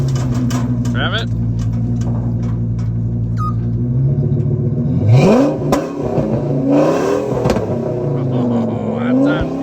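A Triton V10 dump truck with a custom exhaust rumbles at a steady idle, then revs up in several rising and falling surges, close and loud, with people talking over it.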